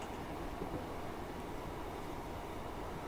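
A train rolls along a branch line on the Derwent Valley Line in Train Simulator, coasting with a steady low rumble of wheels and carriage noise, even and unbroken throughout, with no talk.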